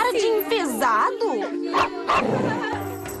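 A cartoon dog yips and whimpers in quick, excited barks mixed with character voices speaking over it, from an animated children's series episode about a party.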